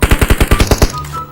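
Rapid burst of DP machine gun fire in a battle royale video game, about eight loud evenly spaced shots in quick succession, then an abrupt stop leaving faint game ambience.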